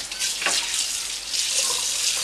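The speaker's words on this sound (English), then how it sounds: "I'll give them a rinse." Tap water runs steadily into a sink while raw chicken breast is rinsed under it, a continuous close splashing hiss with small shifts as the meat moves under the stream.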